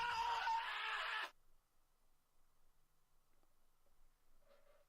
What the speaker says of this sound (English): I swear I just heard someone screaming.